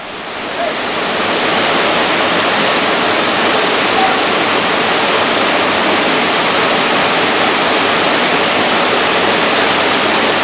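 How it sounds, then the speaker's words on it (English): Steady, loud roar of rushing water from the nearby Seven Sisters Waterfall, a constant broadband hiss that holds unbroken throughout with no voices. "Here we are at the Seven Sisters Waterfall."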